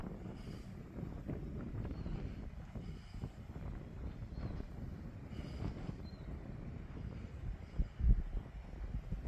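Wind blowing on the Irish coast near the water, a steady low rumbling roar buffeting the microphone, with a louder gust near the end and no one talking.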